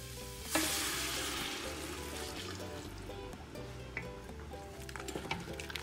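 Hot vegetable stock poured into a flour roux for pumpkin-ginger soup, giving a loud, steady sizzle that bursts up at the start and keeps crackling as it is stirred, with faint scraping and clinks throughout.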